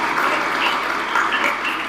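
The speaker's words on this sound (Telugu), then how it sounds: "ఒకసారి వారికి కూడా గట్టిగా చప్పట్లతో అభినందనలు తెలియపరచాలని కోరుకుంటూ" An audience at a Swami Vivekananda Jayanti gathering claps steadily for honoured guests, a brief, dense burst of applause at even loudness from start to finish.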